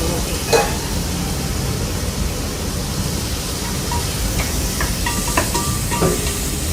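Sliced onions fry in a pan for chicken biryani, giving a steady close sizzle and hiss with faint stirring scrapes throughout and no talk.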